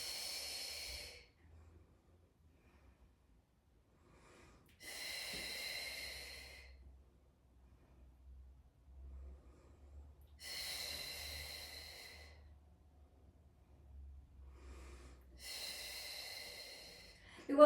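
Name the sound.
breathing in and out while lifting weights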